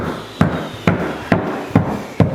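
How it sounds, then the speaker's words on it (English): Five evenly spaced thuds of a rubber mallet tapping a wood floor plank into place, each a dull, fairly loud knock, with no talking. "that's why you have this little piece of wood and a rubber hammer, rubber mallet"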